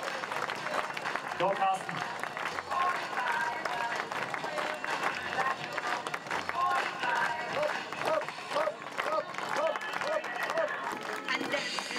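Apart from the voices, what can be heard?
audience applause and clapping for a rider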